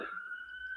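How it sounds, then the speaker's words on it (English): A siren wails with a steady high tone, sustained and fairly loud throughout, with a brief low thump at the start. "And apologies for the sirens."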